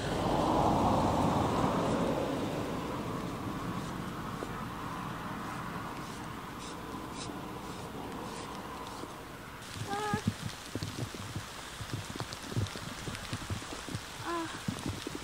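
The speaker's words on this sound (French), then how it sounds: "Il commence à pleuvoir." Rain begins to fall, pattering steadily on a surface nearby, a soft continuous hiss that grows into denser, sharper drops in the second half.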